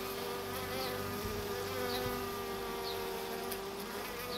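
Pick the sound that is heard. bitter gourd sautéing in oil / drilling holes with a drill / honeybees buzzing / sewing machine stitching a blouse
honeybees buzzing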